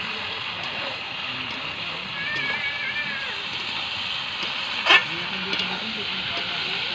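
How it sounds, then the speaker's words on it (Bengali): Village-style chicken curry with plenty of oil released is stirred in a pan over a brightly burning wood or clay stove, giving a steady sizzle with soft stirring scrapes and one sharp clink near the end. "মা আবার একটু নেড়ে দিচ্ছে।"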